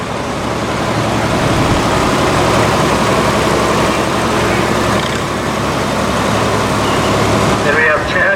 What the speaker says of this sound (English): Then her granddaughter Ashton Elva, she is driving a 1981 white 1155 garden tractor.